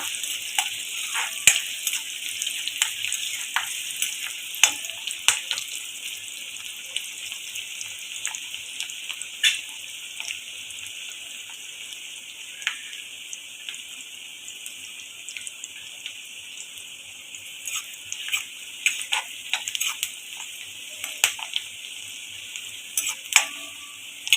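Onions fry in a pan for a Malvani wet cashew curry, giving a continuous crackling sizzle with scattered sharp pops that holds steady throughout at a moderate, close level.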